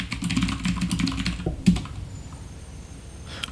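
Someone types a command on a computer keyboard in a quick run of close, crisp key clicks, with a heavier keystroke near the middle, then a faint lull and a last soft tap.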